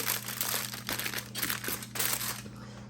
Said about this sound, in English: Once you have folded your aluminum foil over